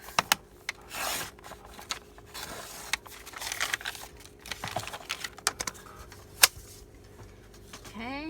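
A sheet of 8.5 by 11 paper being cut at a craft table for a card, with scattered close rasping strokes, soft taps and scraping, and a brief spoken word.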